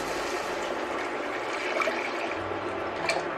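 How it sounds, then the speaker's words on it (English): Three cups of water poured into a cooking pot over sautéed aromatics, a steady close splashing wash that runs continuously and fairly loud with no talk. "now we are going to add 3 cups of water into here"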